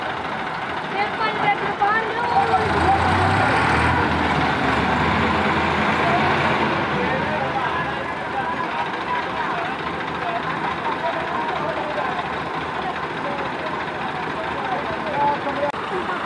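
A Massey Ferguson 260 tractor engine labours hard, straining to pull another tractor stuck in mud and dirty water; a loud, steady rumble runs throughout, with voices in the background.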